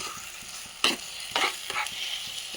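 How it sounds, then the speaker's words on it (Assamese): Fish pieces sizzling in a pan, with a steady background hiss broken by a few sharp spatters and pops, close and fairly loud. "মাছ 2 পিচ দি পেলাই মই এইটো ভাজি ল'ম"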